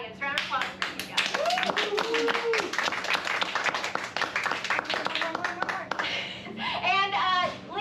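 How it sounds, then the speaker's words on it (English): Audience members at an improv comedy show clap for a few seconds while voices talk and call out over and through the applause. "Round of applause for you guys."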